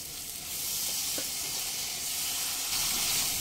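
Chili, coriander and cumin powders sizzle in a pan for onion- and garlic-free arhar dal as a little water goes in, rising into a loud, steady hiss of steam close by.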